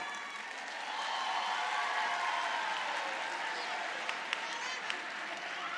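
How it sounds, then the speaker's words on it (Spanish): A carnival crowd in the upper seats applauds during a comparsa presentation in Errenteria, a broad, sustained roar of clapping and cheering that builds after the first second and holds steady. "Los de arriba aplauden a rabiar"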